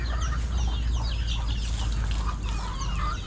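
A flock of young, growing chickens clucks and chirps continuously at close range, many overlapping calls over a steady low background rumble.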